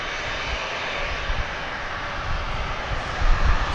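A fixed-wing airplane's engines drone steadily at DFW Airport as the aircraft circles back, a continuous broadband roar at moderate distance that swells slightly near the end, with no talk.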